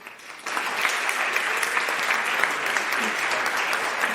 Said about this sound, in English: let me ask you to give them a round of applause